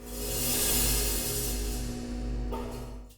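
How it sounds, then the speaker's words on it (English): A sustained, washy cymbal shimmer, bright and hissy, swelling and slowly decaying, with a fresh soft strike near the end. "together we recorded a whole bunch of cymbal sounds"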